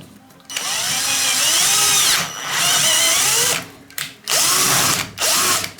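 A power drill whines loudly in several bursts, speeding up and slowing as it drives self-drilling screws into a shower cabin frame, with short pauses between runs.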